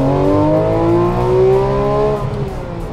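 Lamborghini Huracan Performante with an open Akrapovic exhaust revving loudly and steadily up in pitch, a strong close engine roar that eases off near the end; no talk.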